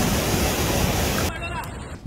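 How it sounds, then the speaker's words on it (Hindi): Strong floodwater in Chhota Udaipur, Gujarat rushes past an eroding riverbank, a dense loud roaring wash of noise that cuts off abruptly partway through. "देखिए किस तरीके से पानी का ये तेज बहाव किनारे की जो मिट्टी है उसको काटता चला गया"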